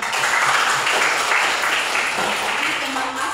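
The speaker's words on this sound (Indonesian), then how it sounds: "Tepuk tangan." A class of schoolchildren applauds, their clapping loud and continuous for a few seconds with a faint voice underneath.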